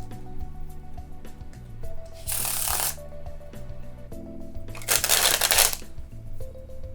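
A Shinto Neko deck of playing cards being faro shuffled, two bursts of crisp riffling cards, close, over soft background music and without talk.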